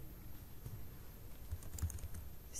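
Computer keyboard typing while a password is entered for a Node.js Nodemailer email setup, a soft, quiet, irregular patter of keystrokes with no talking.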